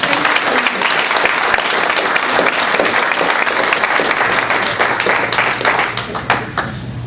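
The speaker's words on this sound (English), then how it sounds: "Let's give them one more round of applause" Sustained audience applause at a school district board meeting after a student singers' performance, loud and steady with dense clapping for about seven seconds, tapering slightly at the end.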